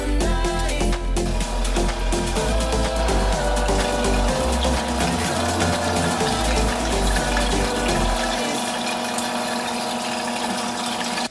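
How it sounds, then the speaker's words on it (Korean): A blender runs loud and steady as it emulsifies liquids with warm brown butter, salt, sugar and xanthan gum, its motor whirring and churning with shifting pitch before cutting out near the end. "블렌더에 액체류를 넣고 서서히 돌리면서 시즈닝을 넣어주고 브라운 버터를 유화시켜서 걸러주면 됩니다"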